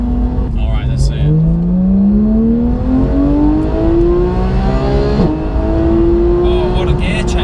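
A Porsche GT3 or GT4 engine pulls hard and loud, its note climbing steadily through the revs, then a sharp gear change with a brief dip before it keeps rising, with a voice talking over it.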